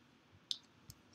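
A computer mouse clicking in an app window, two faint, sharp clicks a fraction of a second apart over a quiet background.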